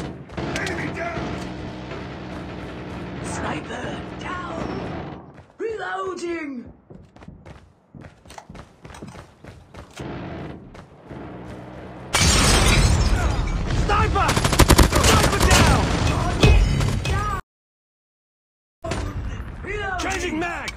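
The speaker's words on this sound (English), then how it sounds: "Sentry gun deployed." Gunfire and a deployed sentry gun in a Call of Duty Mobile hardpoint match: dense bursts of shots and mechanical clatter, then a loud sustained barrage that cuts off abruptly before the fighting resumes, with in-game voice callouts mixed in.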